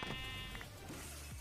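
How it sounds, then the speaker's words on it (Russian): Sheep bleating in the video game Minecraft, a couple of short wavering bleats close up, with brief clicks and game noises around them. "О, коричневый баран!"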